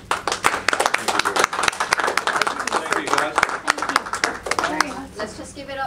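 Applause for a guest speaker at an indoor event, a mix of scattered hand claps with voices talking and cheering over them throughout.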